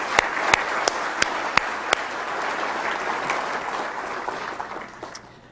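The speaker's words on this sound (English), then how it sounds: "So if I could have a round of applause for the Detroit section team." An audience applauds the Detroit section team at an engineering society meeting, with sharp individual claps over a dense, steady wash of clapping that thins and fades toward the end.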